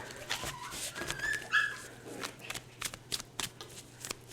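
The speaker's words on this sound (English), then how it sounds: "So my two female dogs are fighting." Two female dogs fighting indoors, with high whimpers and yelps early on followed by a run of sharp scuffling, snapping bursts, moderately close and without talk.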